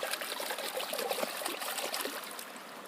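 Tap water runs steadily and close over a freshly cleaned trout-sized fish, a continuous splashing trickle that fades slightly at the end, with no voices.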